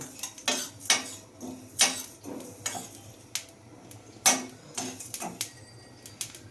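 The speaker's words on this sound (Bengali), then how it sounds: "সর্ষেটা এই ভাজা মশলার সঙ্গে হালকা করে একটু ভেজে নিচ্ছি" A spoon stirs black mustard seeds into roasted spices in a pan while making Kashmiri chilli pickle. Sharp metallic scrapes and clinks repeat at irregular intervals over a quiet background.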